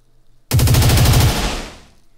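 A short automatic gunfire effect for suppressive fire in the Cyberpunk Red game plays as a single loud, rapid burst of shots that lasts about a second and then fades away, following a brief silence.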